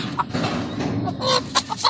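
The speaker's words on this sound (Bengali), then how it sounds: "এই যে দেখুন মাসাল্লাহ কত সুন্দর মুরগিগুলি এবং সুস্থ সুন্দর মুরগিগুলি" Four-month-old Colombian Brahma chickens, male and female, cluck in a pen near Rajshahi: a handful of short, close clucks pop out over a steady background murmur.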